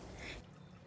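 Water being poured into a cooking pan to start a fish ball soup, a brief steady pouring rush lasting under a second, close and fairly quiet with no talking.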